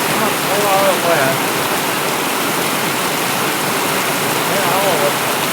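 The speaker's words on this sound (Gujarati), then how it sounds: "આવો વરસાદ" Heavy rain pours down in a long, intense downpour, a dense, constant roaring hiss of water close by, with a faint voice briefly audible beneath it.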